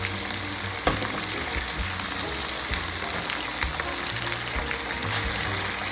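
Tocino frying in cooking oil makes a continuous close sizzle, with sharp pops and crackles scattered over the hiss and occasional stirring noises, and no voices.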